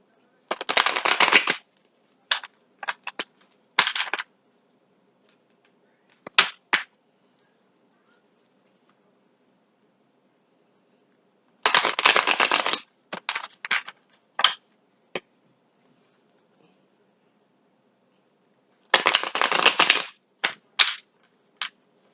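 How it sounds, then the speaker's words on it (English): Tarot cards shuffled by hand in quick bursts of crisp riffling and snapping, with several clusters separated by long silent pauses, close and fairly loud. "I shuffle the cards until I believe it wants to stop shuffling."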